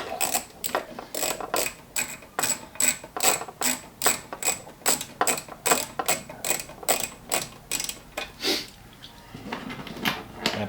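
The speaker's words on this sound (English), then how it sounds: "make sure to switch your ratchet to on" Ratchet wrench turning a bolt under the bonnet of a Toyota GT86, giving a long fast run of sharp metallic clicks in steady bursts, close up, with a brief pause before the clicking resumes at the end.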